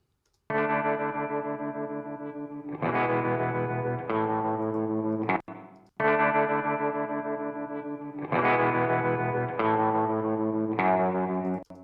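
Electric guitar chords run through a free EQ plugin with a gentle boost around 2 kHz, heard as two identical distorted, chorused phrases of sustained strums with echo, loud and alone.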